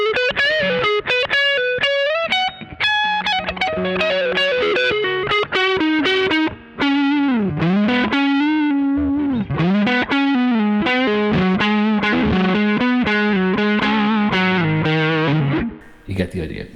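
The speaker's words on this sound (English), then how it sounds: "you'll get a cool tube screamery lead sound" Distorted electric guitar lead through a Pigtronix Disnortion Micro overdrive and fuzz pedal, neck pickup with the gain raised for a tube-screamer-like tone, playing a continuous melodic line of bent and sustained notes, loud and alone.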